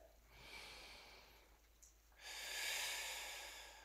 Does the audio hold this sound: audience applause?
no